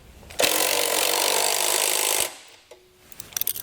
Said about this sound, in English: we can now come down to the lower bolt and tighten that one down as well using a 13mm socket and wrench